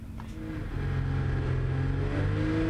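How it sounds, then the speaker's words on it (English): Lotus race cars revving together at a standing start at Oulton Park, a dense roar of engines held at high revs that swells and stays loud throughout. "as the red lights came on, Rass's revs rise, short hold, away they went, with the exception of Jeremy Lorenko"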